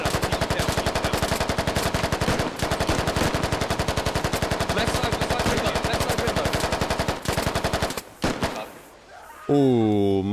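Sustained rapid automatic gunfire in the tactical shooter game Squad, loud and relentless for about eight seconds, then breaking into scattered shots and a brief electronic tone.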